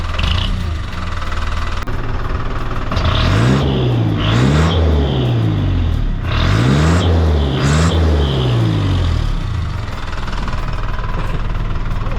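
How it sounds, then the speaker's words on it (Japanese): A decorated Japanese truck with a single muffler exhaust and no split manifold blips its engine twice in a pair of rising revs, loud and close, settling back to a steady idle between and after. "マニ割りなしのシングルマフラー状態です。"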